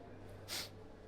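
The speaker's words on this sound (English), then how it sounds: "Got the sniffles." A single short nasal sniffle from a nearby person with a cold, a quick breathy intake over quiet room tone.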